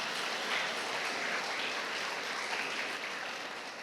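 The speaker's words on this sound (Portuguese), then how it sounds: "Vamos aplaudir o Senhor pelo Warley." Church congregation applauding together, a dense, steady wash of many hands clapping that fills the room without a break, tapering slightly at the end, with no voices over it.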